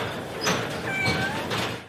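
A cat meows at a cat rescue site housing around 140 cats, a few faint drawn-out cries over steady background noise.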